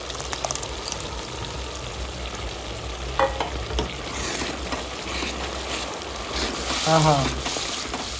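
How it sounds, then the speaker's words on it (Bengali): Spices sizzling and frying in oil left from cooking chicken, a steady crackling hiss with occasional stirring scrapes, close up, with a brief spoken word. "এখন কিন্তু মশলা আমরা কষিয়ে নেব এই চিকেনের তেলে"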